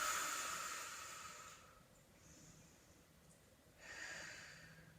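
Someone in a Pilates workout takes a slow, deep breath, a soft airy inhale followed by a pause and a gentle exhale, close and faint with no talking.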